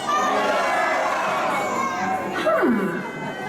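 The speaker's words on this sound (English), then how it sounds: "everyone yell out where you're from on the count of 3" A theme-park audience at the Weeki Wachee mermaid show in Florida yells out together, a loud sustained burst of mixed crowd shouting with children's voices, one rising and falling shout standing out near the end.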